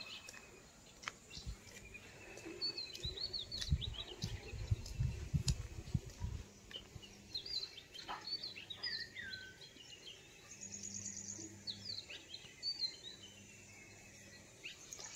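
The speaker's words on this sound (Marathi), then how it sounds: "मस्तपैकी पक्ष्यांचा आवाज येतोय." Birds sing and chirp in the early morning around a Konkan village home, with scattered faint high calls repeating through a quiet outdoor scene, a low hum and brief rumbling underneath.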